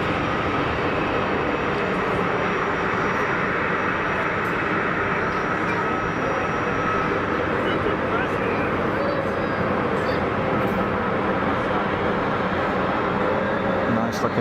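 A Bombardier A220 airliner on short final approach at Geneva Airport, a continuous broad engine roar that holds steady and loud throughout.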